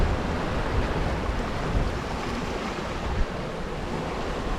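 Waves wash and slosh against the bottom hull of a sailboat under way on a swirly sea between Tobermory and Gigha, a steady broadband rush mixed with wind buffeting the microphone, with no voices.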